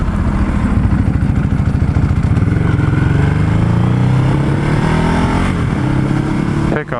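A Ducati Hypermotard motorcycle engine revs up close, its loud, throaty note rising and falling through several climbs in pitch before cutting off sharply at the end.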